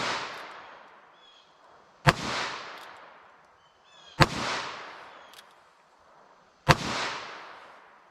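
A .22 Magnum with a 2.6-inch barrel fires three separate shots into ballistic gel. Each is a sharp, loud crack with a long fading echo, spaced about two seconds apart.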